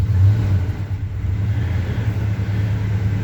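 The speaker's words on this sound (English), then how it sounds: "It started." A 1975 Chevy C10 truck engine runs just after a cold start on a weak battery, with a steady, loud low rumble and a slight rise in revs.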